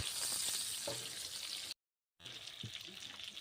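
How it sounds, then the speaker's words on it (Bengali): Pointed gourd (potol) fries in hot oil with salt and turmeric in a kadai while being stirred. The sizzle is a soft hiss with occasional stirring knocks and breaks off briefly to silence partway through. "এখন আমি কড়াই তেল গরম করে একে একে পটলগুলো দিয়ে ভালো করে ভেজে নেব।"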